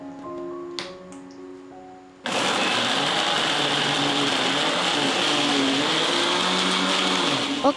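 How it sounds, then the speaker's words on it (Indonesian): Kitchen blender grinding red chilies with leftover spice paste for sambal goreng kentang, starting abruptly after a short quiet lead-in and then running as a loud, steady, unbroken motor whir to the end. "Kita akan blender juga dengan sisa bumbu yang tadi ya, ini bisa membantu mempermudah menghaluskan cabainya."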